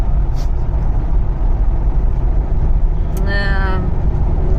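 A car driving along a road gives a steady low rumble of engine and tyre noise from inside the vehicle, with a brief higher whine or squeal near the end.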